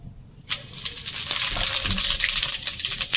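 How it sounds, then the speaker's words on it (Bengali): Whole cardamom, cinnamon and cumin hit hot oil for khichuri, bursting into a steady, loud crackling sizzle after a brief quiet start. "প্রথমে কি দিচ্ছি দেখুন, এলাচ, দারচিনি, জিরে তেলে দিয়ে দেবো"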